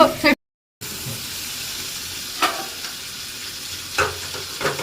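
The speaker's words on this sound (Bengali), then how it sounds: "এটা একটু কিছু সময় ফ্রাই করে নেব, মানে ফ্রাই করে নেব।" Chicken sizzles in a kadai with onion and capsicum, a steady close frying hiss broken by a few stirring scrapes, with a brief cut to silence near the start.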